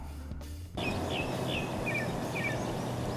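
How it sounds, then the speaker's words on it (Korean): Faint bird calls chirp in short repeated phrases over a soft, steady outdoor hiss, after a brief rustle at the start, at a tree-lined fishing spot in spawning season. "이렇게 새소리가 들리고"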